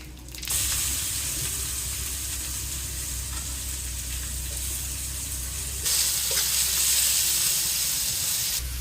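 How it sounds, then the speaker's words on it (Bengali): Cumin, cinnamon, cardamom and bay leaf sputtering in hot oil as a whole-spice tempering, a continuous loud hissing sizzle that swells briefly near the end, with no voices over it. "এইখানে এখন ফুরন দেওয়া হয়েছে এটার মাঝে আছে জিরা দারচিনি এলাচি তেজপাতা"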